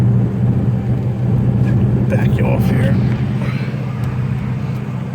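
A 1977 Lincoln Continental cruises at 45 mph, its low, steady road rumble and engine drone running throughout while someone talks briefly from inside the car.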